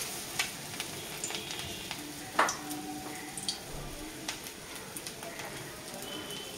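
Besan-battered pumpkin flower fritters frying in hot oil, a soft continuous sizzle with scattered pops and crackles and one sharper splash, moderately quiet and close, with no voices.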